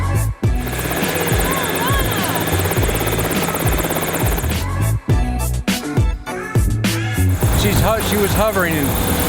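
A helicopter hovering nearby, a loud throbbing rotor beat with a whining engine drone that dominates throughout, with voices talking under and between the noise.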